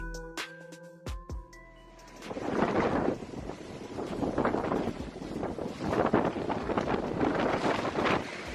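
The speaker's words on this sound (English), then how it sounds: "gale-force winds battered the British territory" Gale-force storm winds batter a British territory, roaring and buffeting hard against the microphone in surging gusts after a brief quieter opening, loud and close throughout.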